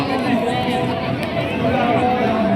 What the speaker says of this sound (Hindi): बहुत बहुत बहुत भीड़ होचन देख